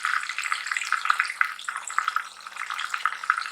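Pieces of spiced fish frying in hot oil, crisping after being turned once, make a loud, continuous bubbling sizzle with rapid crackling pops close by and no talking.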